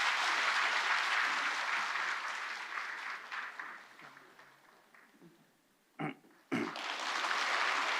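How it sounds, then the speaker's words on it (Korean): A church congregation at a Sunday service applauds to bless a child: loud, dense clapping that gradually thins and fades almost to quiet, with a couple of brief bursts before the applause swells back. "우리 박수로 이 아이를 축복합니다."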